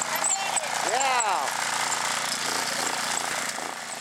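The small engine of a go-kart built from a lawn mower drones continuously nearby, with a rattling, knocking chain that needs grease. A brief rising squeal sits over the steady noise, and a voice is heard alongside.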